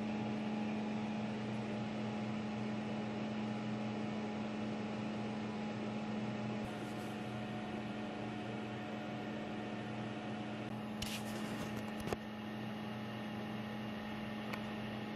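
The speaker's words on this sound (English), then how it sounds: "Preferably you should engrave stuff by scanning line by line like this ceramic cup" A Sculpfun laser engraver with a rubber rotary roller attachment works on a ceramic cup. It gives a steady, faint mechanical hum with a tonal whine and occasional short clicks and ticks.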